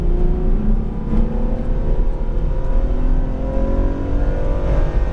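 A Ferrari F12 Berlinetta's engine pulls hard on a racetrack, a loud, close, continuous roar with rising pitch as the car accelerates.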